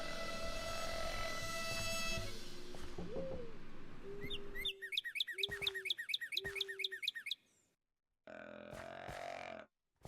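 A bird in the Minecraft Dinosaurs mod makes a string of short cooing and chirping calls, with rapid clicky bursts between low tones, followed by a pause and a final call.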